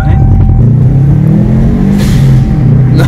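A standard-engined Audi A5 rebuilt after being written off, heard from inside the car as the engine drones loudly and steadily, with a short turbo dump-valve whoosh partway through.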